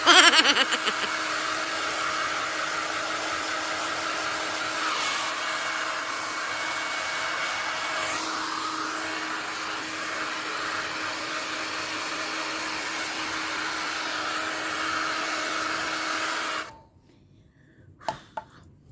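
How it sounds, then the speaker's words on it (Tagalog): A hair dryer blows loudly and steadily at close range for about sixteen seconds, then cuts off abruptly, leaving near silence and a brief click. "Mainit ang blower sa mukha."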